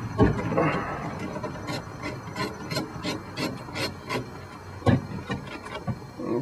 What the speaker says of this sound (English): my other socket here. We got to take off this nut.